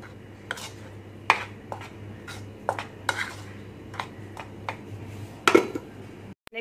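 Hot milk cake batter of ground sugar being mixed in a bowl, with irregular spoon clinks and scrapes against the dish, close and moderately loud, over a low background hum, with no talking.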